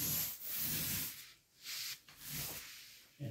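A paint roller rolls paint onto an interior wall in repeated upward strokes, each a soft, close, rubbing hiss that rises and fades in rhythm, about four passes with brief quiet gaps between.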